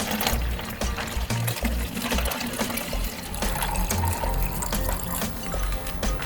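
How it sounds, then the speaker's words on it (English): Fresh, cool water pours into a limeade pitcher, a steady close rushing fill with gurgling low churn that runs continuously and evenly throughout. "And now we're going to fill with some fresh, cool water."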